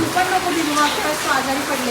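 Steady rain pours outdoors along a road, a dense, even hiss that stays loud and constant throughout, with faint overlapping tones beneath it.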